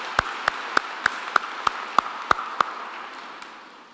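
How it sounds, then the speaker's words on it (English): Slow, evenly spaced hand claps at a graduation ceremony, about nine crisp claps in a steady beat in a reverberant hall, trailing off into quiet room tone. "I think we should give at least a hand of applause."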